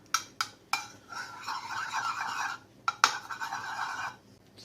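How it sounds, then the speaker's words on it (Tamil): Eggs beaten in a bowl for a homemade Tamil recipe, a close, steady scraping clatter of utensil against the bowl, with a few sharp taps at the start and another burst midway. "முட்டைய லைட்டா கலந்து விட்டுக்கலாம்."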